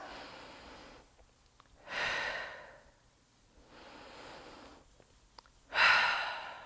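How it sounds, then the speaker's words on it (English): Slow, deep breaths during a yoga session, soft and close, with two clear long exhalations rising out of quiet room tone between fainter inhales. "gonna just take 5 breaths here"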